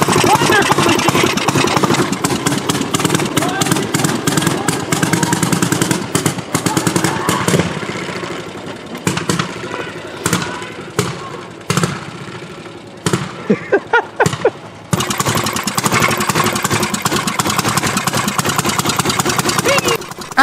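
The engine of an old machine running up close, a loud rough chugging that keeps going through the stretch, with brief dropouts and bursts partway through as it is driven.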